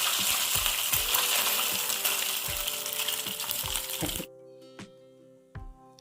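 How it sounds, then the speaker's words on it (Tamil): Cashew nuts fry loudly in a quarter cup of hot ghee for sweet pongal, a dense continuous sizzle that stops abruptly near the end, leaving a few light clinks of a utensil. "இப்போ நான் 1/4 கப் அளவுக்கு நெய் எடுத்துருக்கேன். அதில் முந்திரி பருப்பு வறுத்து சேர்த்துக்கிறலாம்."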